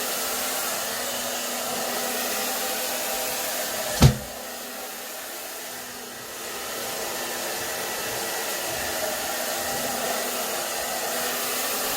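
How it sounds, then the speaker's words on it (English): A handheld blow dryer smoothing dry hair runs as a steady, close airy whoosh, with a brief bump partway through, then continues evenly with no talking. "I always start out with using the blow dryer"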